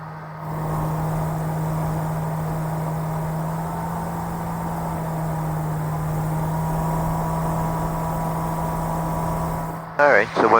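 A Viking 150 engine in a RANS aircraft, throttled back to 4,800 RPM, drones steadily with a strong low hum and cabin noise for about ten seconds, ending in a short burst of talk.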